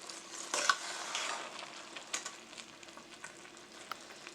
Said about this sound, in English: I'm going to stir it up to make sure it doesn't have any crust.